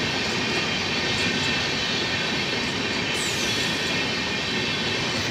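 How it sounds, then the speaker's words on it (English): Steady, loud rumble of the Chennai Mysore Intercity train at an Indian Railways station platform, broadband rolling noise throughout with a faint high wheel squeal rising near the end, no voices. "Chennai Mysore Intercity has arrived on other platform."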